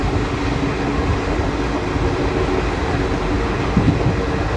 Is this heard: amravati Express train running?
yes